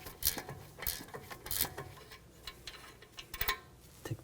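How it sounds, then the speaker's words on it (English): An 18mm ratchet wrench works a nut off the front suspension of a 2007-2013 BMW X5 with bursts of close clicking and scraping metal, irregular and with short pauses between strokes. "18mm ratchet wrench. Makes it a little easier. We'll take that nut off."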